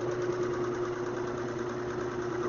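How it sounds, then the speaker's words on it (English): A slam valve motor runs on compressed air, giving a steady, continuous mechanical hum with an even tonal drone and faint knocking texture, held at constant loudness throughout with no talking. "we turn on the compressed air, you'll see power being generated"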